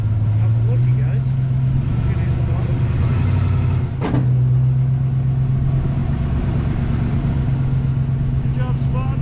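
A 1964 Chevy Nova engine rumbles steadily up close as the car climbs a ramp, with a sharp thud partway through and a steady hum carrying on afterward.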